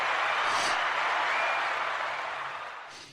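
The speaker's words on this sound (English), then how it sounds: "Gotta love the applause." Steady, dense applause from an audience welcoming a podcast guest. It holds as an even wash for about three seconds, then fades slightly toward the end.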